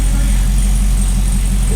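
A Cadillac CTS-V V8 with Texas Speed headers runs at a steady idle, a continuous low rumble close by while people talk over it.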